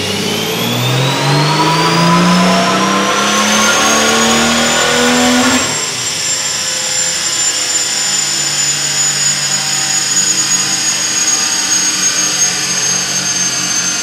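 A BMW E28 518 fitted with a swapped-in BMW E46 3.0-litre diesel engine revs up loudly, its pitch rising steadily for several seconds before settling into a high, sustained roar that continues to the end.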